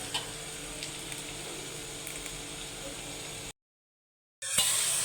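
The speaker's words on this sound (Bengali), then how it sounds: "মশলাটা যে কষাইয়ে নিলাম," Spices fry with onion in a pan, giving a steady, close sizzle for a few seconds, then a brief gap of silence before the frying resumes more loudly.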